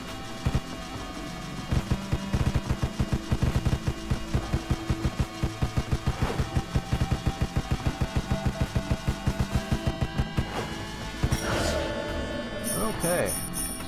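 Rapid gunfire in the twin-stick shooter game Deathstate, a long run of evenly spaced sharp shots with a few pauses, ending in brighter game effects, while someone talks over it.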